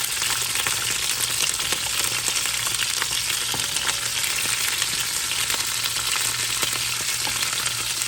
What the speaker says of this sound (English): Just let them fry in that olive oil and butter.